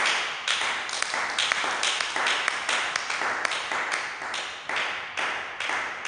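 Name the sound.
congregation applauding the Lord in church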